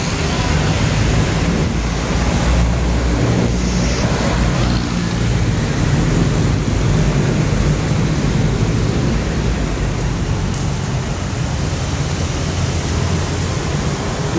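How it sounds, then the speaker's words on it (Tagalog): Heavy rain pours beneath the new MRT 7 overpass in Fairview, Quezon City, a dense, steady roaring hiss mixed with low road traffic rumble throughout. "medyo napalakas ulan"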